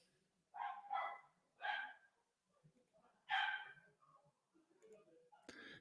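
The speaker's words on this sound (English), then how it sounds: "If you hear my dog barking in the background, I apologize." A pet dog barks in several short bursts in the background of an indoor room, loud and close, with pauses between the barks.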